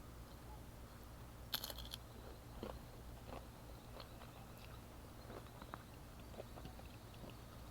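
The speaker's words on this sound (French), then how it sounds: "je ne sais pas si vous pouvez entendre le croquant, mais c'est vraiment bien croustillant" Crisp crunching bites with short sharp crackles, a loud burst early then smaller scattered crunches over a steady low hum, close to the microphone.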